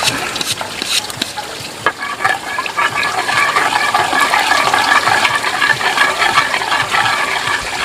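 Cooking oil heats in a frying pan with a steady, loud crackling sizzle that runs unbroken for about eight seconds, with scattered sharper pops, while preparing a stir-fry of prawns and water spinach.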